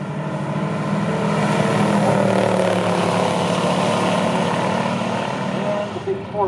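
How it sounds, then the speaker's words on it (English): A 1969 Ford Cobra with an old automatic transmission runs a pure stock drag race, its engine a loud, sustained, close roar with droning harmonic tones holding steady for the whole stretch, easing slightly at the end, with talk faintly beneath. "the big Ford Cobra goes through first with a 4-speed old automatic."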